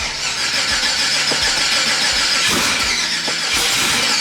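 A cold 1000 hp LS V8 swapped into a Mustang cranks on a weak battery, with a loud, steady run of rhythmic starter pulses and engine turnover.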